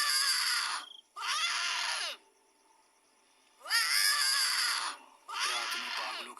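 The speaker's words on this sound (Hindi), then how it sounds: "रात में पागलों की तरह चिल्लाते हुए," In a horror cartoon a woman screams wildly at night, four long, loud, shrill screams separated by short silences.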